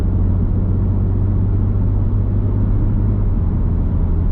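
A car cruising in evening traffic on a road toward Bursa, a loud, steady low rumble of engine and road noise from inside the vehicle, continuous with no voices.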